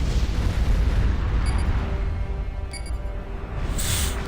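Demolisher artillery firing in the strategy game Supreme Commander 2: a dense, rumbling low boom rolling on steadily throughout, with a few faint higher clinks and a brighter burst near the end.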